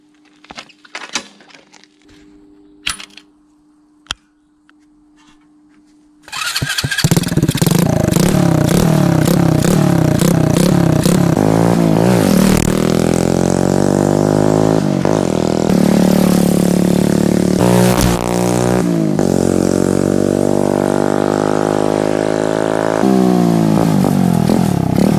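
A finished 125cc bobber motorcycle built from a kit starts after a few faint clicks and then runs loudly and steadily close by, with repeated throttle blips and revving throughout.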